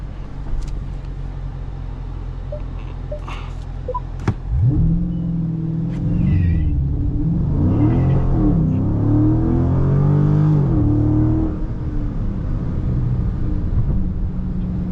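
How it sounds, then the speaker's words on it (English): A Dodge Charger Scat Pack revs hard and launches with launch control, its roar climbing in pitch over several seconds before easing off, with a rough rumble of tires spinning underneath. "But I'm still hearing the tires spin though."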